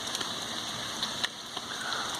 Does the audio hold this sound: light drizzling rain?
yes